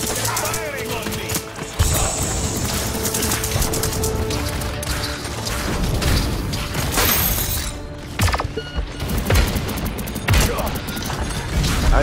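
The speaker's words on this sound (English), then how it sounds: "Firing on me." Gunfire in the Paladins video game on Xbox One, a busy, dense mix of rapid shots and mechanical clatter that runs steadily through the whole stretch alongside other game effects.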